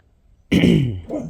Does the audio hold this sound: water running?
no